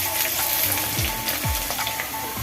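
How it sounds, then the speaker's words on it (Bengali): Black mustard seeds, whole cumin, dried chilli and chopped garlic crackling loudly in hot oil for a mango pickle, a dense close sizzle with a few scraping stirs and no voices. "আমি আবার কালো সর্ষে আর গোটা জিরে দিয়ে দেবো এর মধ্যে।"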